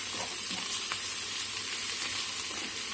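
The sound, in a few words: ginger garlic paste frying with ivy gourd curry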